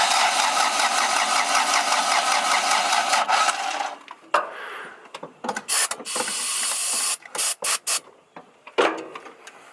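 A Toyota Corolla wagon engine cranks steadily for about four seconds, then gives several short, uneven bursts as it tries to catch and start, with brief pauses between the attempts.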